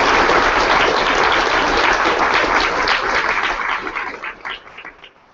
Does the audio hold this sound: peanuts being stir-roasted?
no